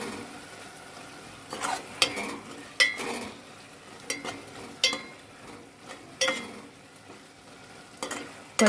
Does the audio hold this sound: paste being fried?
yes